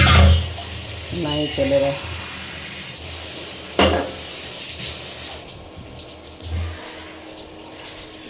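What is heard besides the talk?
pouring out dirty water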